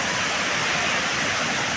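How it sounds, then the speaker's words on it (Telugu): A waterfall in full rainy-season flow roars as a loud, steady, broadband rush of falling water, close by and continuous with no pauses. "చూపిస్తున్నానండి వాటర్ ఎంత ఫ్లోలో ఉంది చూపిస్తున్నాను"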